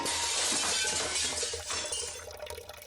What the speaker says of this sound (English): I hear the high-pitched noise of glass cracking